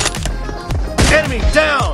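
Automatic-weapon fire from an M249 and an M416 in a shooter video game's sniper team deathmatch, with short, loud bursts at close range mixed with game voice lines.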